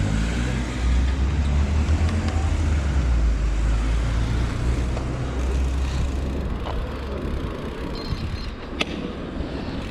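Cars driving past on the road, heard from a bike: a steady rumble of passing traffic with rushing wind, fairly loud and close, with no talking.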